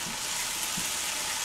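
Chopped vegetables softening in a hot pan for a breakfast burrito, a steady close hiss and sizzle with faint crackles throughout, no talking.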